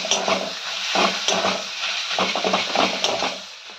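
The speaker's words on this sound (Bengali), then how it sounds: "এবার ভালো করে এটাকে মিক্স করে ভালো করে পেঁয়াজের সঙ্গে এটাকে মিক্স করে নিতে হবে এবং ভালো করে একটু ফ্রাই করে নিতে হবে" Onions being stirred and fried in a pan for an egg-chicken tomato chop, with rhythmic scraping strokes over a steady sizzle, close and fairly loud.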